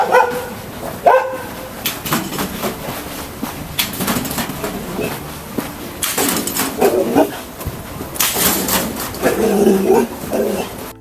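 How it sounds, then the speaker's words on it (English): A dog barks in several loud, sharp bursts with short pauses between them, close by, with faint bird calls and some background noise underneath and no talking. "Listen to that bark."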